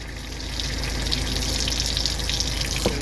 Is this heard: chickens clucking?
no